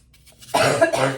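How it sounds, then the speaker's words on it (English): A single short, rough cough, close and clear, after a moment of near silence. "Y'all see, I still have that little cough."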